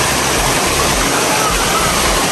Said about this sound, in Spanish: Llegamos a la cascada